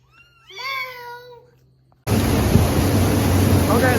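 A single high, wavering kitten meow sounds clearly, then a loud, constant rushing noise suddenly takes over.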